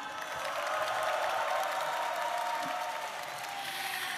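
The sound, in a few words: audience applause after the KAIST-POSTECH science quiz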